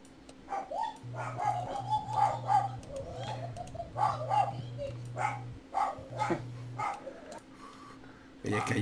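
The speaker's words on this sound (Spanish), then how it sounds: "es que hay un ataque de perros fieros" Dogs bark in a fierce attack within the Dungeons & Dragons Online video game, short repeated barks spread through the clip amid bird-like calls and a steady game tone, with people talking over it.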